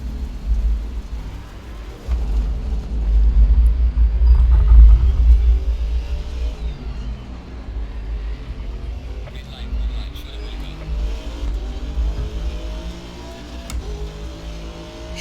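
A car being driven, with a low rumbling engine and road drone throughout that swells midway and then settles into a steadier hum, with faint interior rattles and no talking.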